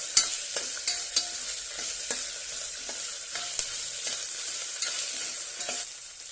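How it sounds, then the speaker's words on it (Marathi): Finely chopped tomato sautéed in a pan for moong pulao, a constant bright sizzle punctuated by regular scraping stirs of a spatula, close and steady, with no talking. "एक टोमॅटो बारीक चिरलेला आहे तो घेऊया ते पण परतून घेऊया"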